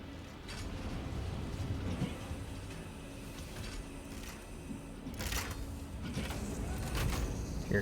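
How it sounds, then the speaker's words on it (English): Train ride in the factory-building video game Satisfactory: a low steady rumble with creaks and faint clanks, continuous and moderately quiet, with no speech. "we'll just ride the train back because it's way faster than running"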